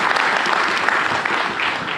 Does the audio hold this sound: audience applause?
yes